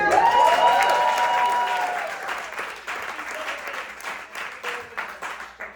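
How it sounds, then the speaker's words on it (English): Applause from an audience at a live theater show swells loudly at first, then thins and tapers into scattered claps over the following seconds. "Round of applause."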